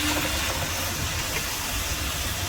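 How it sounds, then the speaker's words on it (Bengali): Ginger and spices frying in a pan of hot oil for a no-onion, no-garlic paneer butter masala, a loud, steady, broadband sizzle and hiss close up, with no talk. "আর আদা, এইগুলো ভালো করে ফ্রাই করতে হবে, সুন্দরভাবে ভাজতে হবে প্রথমে।"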